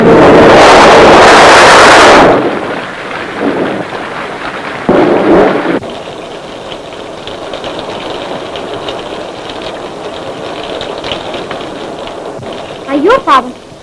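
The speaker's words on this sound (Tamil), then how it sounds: "ஐயோ பாவம், வயதானவங்க இப்படி மழையில நனைஞ்சிட்டீங்களே." Rain pours steadily after a loud burst of thunder-like noise at the start, with fainter rumbling and scattered sounds beneath the downpour.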